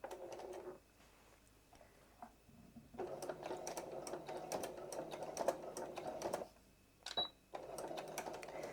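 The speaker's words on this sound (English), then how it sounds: "And I am back stitching." A sewing machine back stitches a homespun rag quilt in short bursts of rapid mechanical chatter separated by brief pauses, close and clear with no talk.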